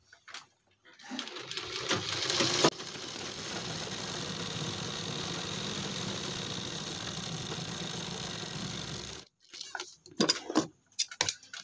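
A sewing machine runs in one sustained, even burst lasting several seconds while stitching a kurti collar, close and clear, framed by brief handling clicks before and after.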